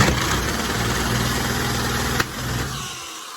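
A two-stroke engine being tested to run backwards roars at full throttle, a loud steady buzzing drone that holds for about two seconds, then drops sharply and fades.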